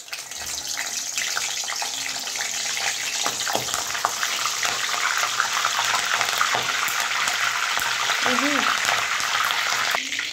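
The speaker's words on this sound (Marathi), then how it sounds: "बघा कढीपत्ता छान फ्राय झाला आहे." Curry leaves dropped into hot oil in a kadhai for tempering, a loud close hiss and crackle that starts abruptly and keeps spitting steadily, with a brief bright clink of utensil near the end.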